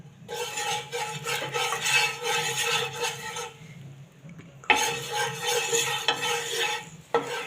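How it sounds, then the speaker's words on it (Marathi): Oil sizzles on a hot dosa pan in two loud bursts separated by a short quiet pause, with light scraping as something is spread around. "तर दोशाच्या तव्याला थोडंसं तेल घालते"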